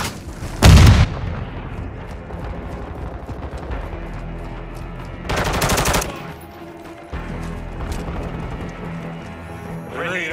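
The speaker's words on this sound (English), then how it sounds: "Friendly mortar strike on the way." Mortar strike blasts and rapid gunfire in a first-person shooter video game on PS5, with a heavy boom near the start and another burst midway over continuous loud battle noise.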